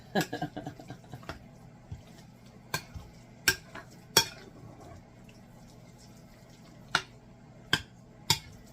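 Spoon scraping and clacking against a bowl while ingredients for a Big Mac bubble up bake are stirred together, a run of quick close knocks followed by sparser sharp taps over a quiet kitchen background.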